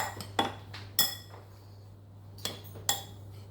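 Nuts and spices tossed together in a bowl for dukkah give a few sharp clinks and scrapes, spaced irregularly and fairly close, with no talking.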